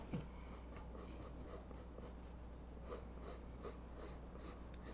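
Pencil scratching on paper while sketching a Snorlax Pokémon, faint and steady with repeated light strokes and soft breathing in a quiet room.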